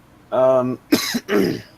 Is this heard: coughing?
yes